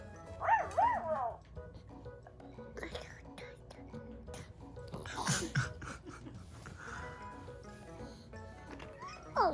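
A puppy gives sharp, high yips and a short bark at the start and again at the very end, close to the microphone, with people talking quietly in between.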